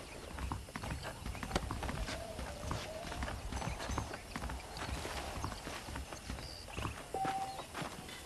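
Horse hooves clip-clop steadily in a Red Dead Redemption western scene, a continuous rhythmic clatter of several saddled horses walking close by, with a brief whinny and faint ambient game sounds around them.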